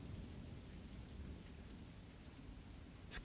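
Steady rain falls outside, a soft, even hiss with a low rumble beneath it. The sound is faint and constant, with one brief sharp tap near the end and no talking.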